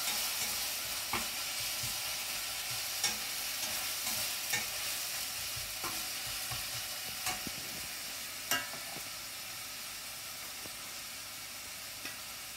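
Garlic-ginger paste fries in hot oil with spices for a Mithila ol kofta recipe, a continuous close hiss and sizzle broken by occasional scraping stirs of a spoon in the pan, with no talking.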